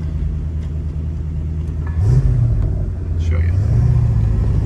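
A 1976 Pontiac Trans Am with a Pontiac 400 V8 engine rumbles at a deep, steady idle close by, rising into two revving swells, with someone speaking briefly over it.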